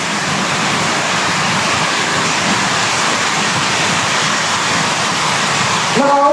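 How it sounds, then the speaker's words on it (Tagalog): Strong wind blows outside, a loud, unbroken rushing roar lasting several seconds, with a brief tonal sound cutting in at the very end. "Hangin na siguro to."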